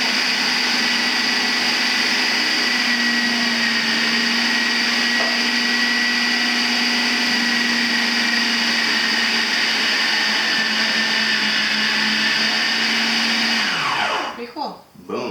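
A Hamilton Beach Big Mouth Deluxe 14-cup food processor slices Napa cabbage, its motor whirring loud and steady for a long stretch before spinning down and cutting off near the end.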